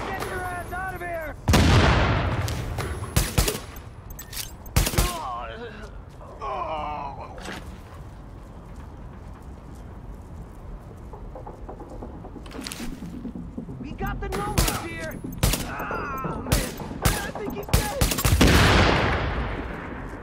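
Gunfire in the video game The Division, sharp loud single shots and short bursts scattered across the scene, separated by quieter stretches where people speak and shout.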